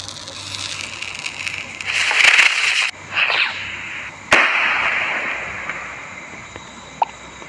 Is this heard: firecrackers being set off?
yes